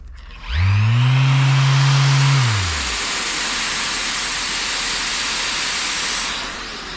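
A dual-action sander with a built-in vacuum spins up loudly, its motor whine rising then settling into a steady, close hiss and hum of sanding on a Honda Del Sol, running alone before tapering off at the end.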